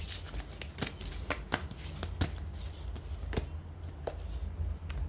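Tarot cards being shuffled by hand, a quick run of repeated papery riffles and snaps at a steady, brisk rhythm, close and fairly loud, with no voices.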